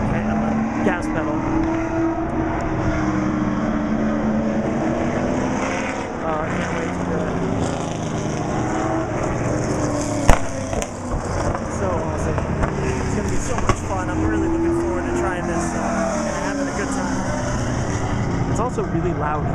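NASCAR race cars lapping a race track at a driving experience, their engines making a constant loud roar with rising and falling whines as they pass, filling the whole stretch with no break.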